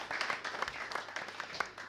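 Brief applause for a panelist at a panel discussion: light, scattered clapping from a modest audience, fairly soft and lasting only a moment.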